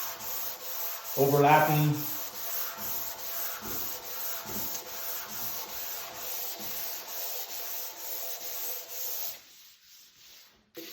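A live-edge wood slab tabletop is hand-sanded with 180 grit sandpaper in long strokes, making a steady, close rubbing rasp that stops near the end. A voice is faintly heard.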